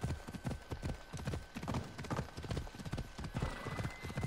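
Horse galloping in the video game Assassin's Creed Odyssey, with rapid, rhythmic hoof clip-clops that are close and loud and run steadily throughout.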